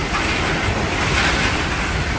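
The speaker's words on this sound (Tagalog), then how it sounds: "Naririnig niyo ba yung yung hampas po ng hangin?" Strong gusts of wind during a typhoon roar as a loud, steady, broadband rush that fills the whole clip without letting up, close to the microphone.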